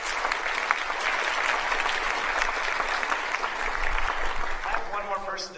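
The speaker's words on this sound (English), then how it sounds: "let's give them a big round of applause" Audience applause for the technical theater crew at an international music concert, a steady wash of clapping throughout, tapering near the end.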